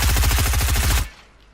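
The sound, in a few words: gunfire shooting through a built wall in Fortnite video game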